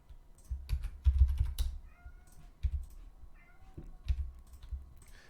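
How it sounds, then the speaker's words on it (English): A female cat meows a few times at moderate distance, mixed with soft keyboard typing and clicking in a quiet room. "if you hear a cat in the background"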